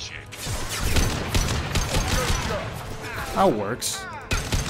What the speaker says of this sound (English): I think it's just my SMG that's just so freaking powerful